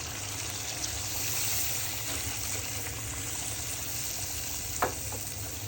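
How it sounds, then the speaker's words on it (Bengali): Broth goes into a frying pan of hilsa fish and pointed gourd curry, and a soft, steady sizzle and bubble carries throughout, fairly quiet and close, with one brief clink near the end and no voices. "তো এখন আমি রান্না করার জন্য ঝোল দিয়ে দিব।"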